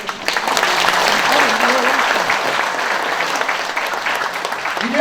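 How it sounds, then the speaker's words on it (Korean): An audience at a founding ceremony for a history and culture promotion institute applauds loudly and steadily, with a crowd murmur and a voice speaking over the clapping. "큰 박수 좀 주십시오."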